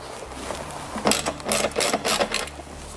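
An impact gun loosens the bolts of a subwoofer on a Lexus SC430, giving several short bursts of buzzing rattle close by, with brief gaps between them.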